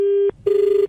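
A telephone rings during a radio prank-call show, loud and close, with one long steady tone, a short pause, then a second warbling ring and no voices.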